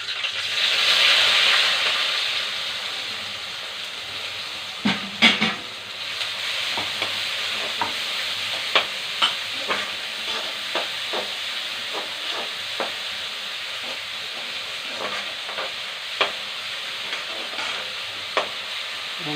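Onions hit hot oil that already holds fennel and mustard seeds and fry with a loud, continuous sizzle. Sharp pops and spatters break through at irregular moments, close by and with no talk.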